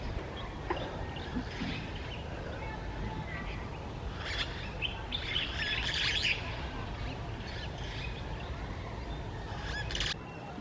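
Wild Senegal parrots near a nest hole high in a baobab tree in The Gambia, giving scattered faint chirps and squawky calls over a constant outdoor hiss.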